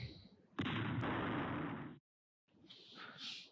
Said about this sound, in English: And now we can place the explosive next to the mask and shoot it to finish the game.